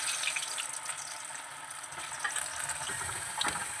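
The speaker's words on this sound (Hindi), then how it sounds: "अब हम इसको फ्राई करेंगे।" Round slices of taro (ghuiya) fry in hot oil in a home kitchen pan, a faint continuous sizzle and crackle with no talk, steady for a few seconds.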